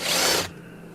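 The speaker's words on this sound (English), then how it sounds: "all I gotta do is just loosen these two top screws up" A power screwdriver loosens a screw on an RG-400 guitar in one short, close whirring burst, then cuts off into quiet room hum.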